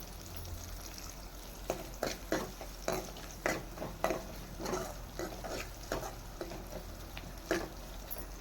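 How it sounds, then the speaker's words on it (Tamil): Shallots sautéing in oil for bitter gourd kuzhambu, with a soft background sizzle, punctuated by repeated scraping stirs of a spoon against the pan at an uneven rhythm. "இது எல்லாத்தையும் நல்லா வதக்கி எடுத்துக்கலாம்."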